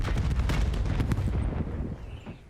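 A grenade blast in Call of Duty booms loudly at once, followed by rumbling debris that gradually fades over a couple of seconds.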